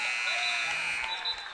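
Buzzer ending the third quarter of a high school basketball game on a radio broadcast, a steady electronic horn tone sounding throughout the short moment over crowd noise.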